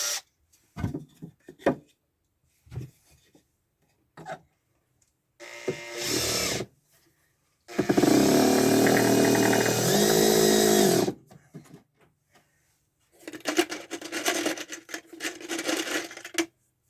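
Power drill driving stainless steel screws into wood inside an underground bunker, several separate whirring bursts of a few seconds each, the longest a loud sustained run, with quiet gaps and small knocks and handling noises in between.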